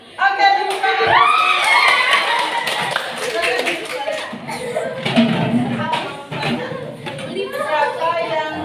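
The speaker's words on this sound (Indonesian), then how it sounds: "Oke, tepuk tangan." Classroom applause from a group of students, a burst of clapping mixed with chatter and light laughter, with a teacher's voice speaking over it.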